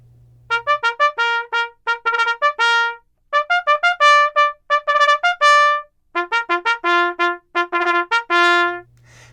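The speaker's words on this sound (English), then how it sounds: "The next call of the day is for mess or lunchtime and sounds like this." Bugle sounding the mess call for lunchtime in scout bugling, a loud, clear sequence of short tongued notes in quick rhythmic phrases with brief pauses between groups, played solo.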